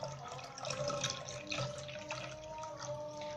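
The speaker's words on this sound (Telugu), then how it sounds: "అలాగే నెక్స్ట్ వచ్చేసి ఈ పాలు పోసుకుంటున్నాను." Milk is poured into a vessel in a village kitchen, making a steady, soft liquid stream with light splashing that carries on faintly for the whole stretch.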